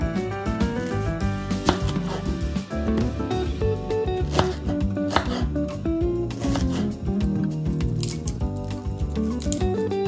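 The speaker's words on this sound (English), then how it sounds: "Once you're done chopping your cauliflower, just set it aside in a separate bowl" Cauliflower being chopped on a board, a run of close, irregular knife cuts and soft crunches under busy background music, with no talk.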